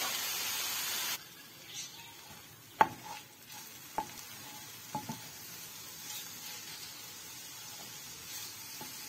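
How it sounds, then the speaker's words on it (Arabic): Spinach being stir-fried for spaghetti with a soft, steady sizzle in the pan, broken by a few sharp clicks and scrapes of stirring, quiet and close, after a brief burst of louder hiss at the start. "خلط قلبو هكا تيهبط صراحه، باش تبقى فيها المفيد ديالو هكا باش يتقلى"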